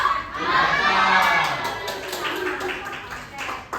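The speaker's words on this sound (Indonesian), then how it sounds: "Tepuk tangan untuk keluarga Rio." Children in a classroom cheer and shout together, then break into rhythmic clapping for a group, young voices loud and close with claps growing more distinct as the shouting fades.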